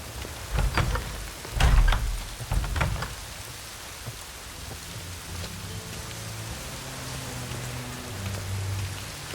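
Steady rain pours down in The Witcher 3, with a few heavier splashing bursts near the start before settling into an even hiss.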